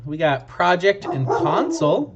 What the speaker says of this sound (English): You may have heard, that's my dog.